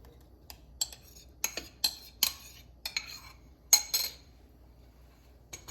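Eggs added to crepe batter in a bowl, heard as a few sharp taps and clinks of shell and utensil against the bowl with soft handling sounds between, close and fairly quiet.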